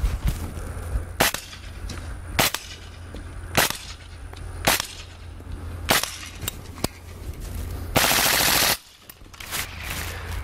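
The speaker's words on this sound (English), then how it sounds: "Let me just fire off into the distance and you'll actually hear how loud the round is." An integrally suppressed AAC Honey Badger rifle fires subsonic rounds into the distance outdoors: roughly ten sharp, fairly quiet cracks at irregular intervals, plus a brief louder burst of noise near the end.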